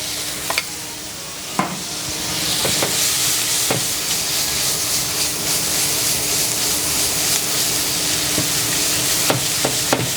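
Mushrooms and pasta sautéing with garlic puree in a hot pan, giving a loud, steady sizzle and hiss with repeated sharp scrapes and clinks of stirring spread through it, close up and with no talking.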